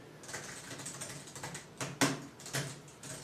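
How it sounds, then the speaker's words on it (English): Typing on the keyboard of a Tunkarmor tablet case, a quick irregular run of light plastic key clicks close by, with a couple of firmer presses standing out. "I am typing, so it works really, really well."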